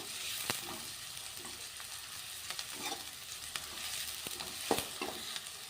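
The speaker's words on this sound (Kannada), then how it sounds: "ಈಗ ನೋಡ್ರಿ ಈರುಳ್ಳಿ ಅವು ಫ್ರೈ ಆಗಿ ನೋಡ್ರಿ ಗೋಲ್ಡನ್ ಕಲರ್ ಬರೋವರೆಗೂ ಫ್ರೈ ಮಾಡ್ಕೋಣ" Onions frying in a pan for old-style jowar flour upma: a steady close sizzle broken by occasional clicks and scrapes of stirring, with no talk.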